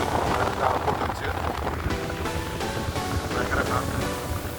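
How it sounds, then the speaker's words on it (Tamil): Strong wind buffets a boat crossing rough sea from Bali Hai Pier to Koh Larn in Thailand, with continuous roaring gusts, engine drone and splashing waves close to the microphone. "பயங்கர காற்று"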